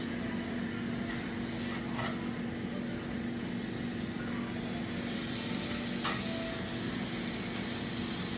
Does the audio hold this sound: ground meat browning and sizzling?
yes